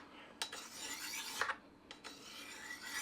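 A kitchen knife dragged across a sharpening surface, three or four short rasping strokes spaced apart over a quiet background, close and fairly faint.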